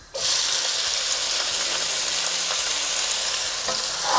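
Chopped onions dropped into hot oil with a cinnamon stick and cumin seeds burst into a loud, sudden sizzle that holds steady and close, with faint stirring taps underneath and no voices.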